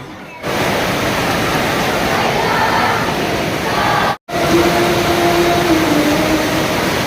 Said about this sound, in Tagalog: sa gitna ng malakas na buhos ng ulan